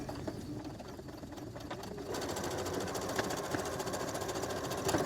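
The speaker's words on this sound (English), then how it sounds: "slow and steady around this curve to create that nice, pretty top stitch look" A sewing machine top stitching slowly around a curve on a small fabric keychain case, with a steady close mechanical whirr that grows slightly louder midway and runs without a break.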